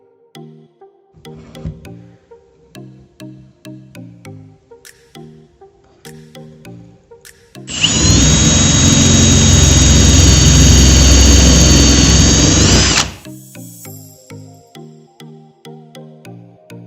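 A power drill bores straight into wood in a single sustained, loud whine lasting about five seconds, set between quieter intermittent clicks and knocks from handling the tool.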